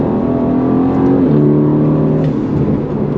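An Aston Martin Vantage F1 Edition engine revs hard and climbs in pitch, a loud, steady mechanical roar with a brief shift dip before pulling again.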